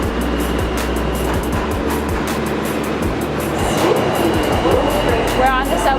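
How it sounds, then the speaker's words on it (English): A New York City subway train riding at speed, a loud, dense roar and clatter of wheels on rails with rhythmic thumps, heard from inside the car with voices faintly underneath. "We're on the subway and it's loud."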